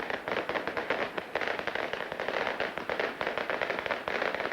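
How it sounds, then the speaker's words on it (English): Fireworks crackle in a dense, continuous barrage of rapid pops and bursts at a Leeds Rhinos rugby league match at Headingley stadium, loud and close, filling the whole stretch with no talk. "they have an impressive firework display here at Headingley these days."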